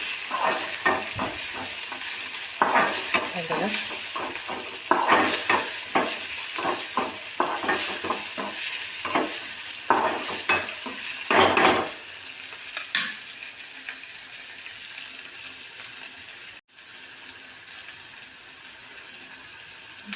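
Cucumber curry with tomatoes sautés in a pan, with quick, rhythmic stirring strokes over a continuous loud sizzle that later settles into steady frying, with a brief watery gush near the end.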